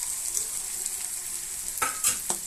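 Eggplant dropped into hot fish oil in a pan gives a soft steady sizzle, with a few sharper crackling bursts near the end as the pieces hit the oil and are stirred.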